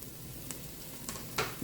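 Garlic cooking in a Ninja Speedi cooker: a quiet, steady sizzle with a few faint pops over a short stretch.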